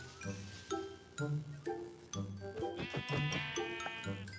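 Sheep in a magic-world survival video game bleat several times in short, close calls, with faint tinkling chimes scattered among them.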